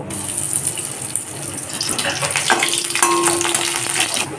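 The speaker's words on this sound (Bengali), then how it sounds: "ধোকাগুলোকে ভেজে নিচ্ছি।" Dhoka lentil cakes frying in mustard oil in a kadai for a Bengali dhokar dalna, giving a steady broadband hiss and crackle with a few brief tonal clinks near the end, no talk.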